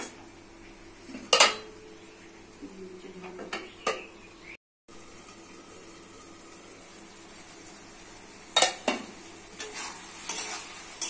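Eggplant, potato and tomato stir-fried in a pan, a quiet low sizzle under scattered clinks and scrapes of a utensil against the pan, with a few sharper knocks spaced out across the stretch.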